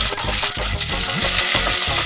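Chopped onions fry and stir in a pot of hot oil for biryani, a loud, steady sizzle broken by repeated scraping strokes of a spoon through the pan, with no voices.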